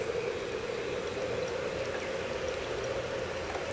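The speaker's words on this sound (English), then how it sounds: "put in the magnesium and it's going to bubble away" Magnesium reacts vigorously in acid, giving a steady, faint fizzing hiss of bubbling that continues alone without pause.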